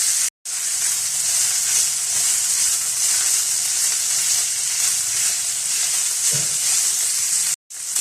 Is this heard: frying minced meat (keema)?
yes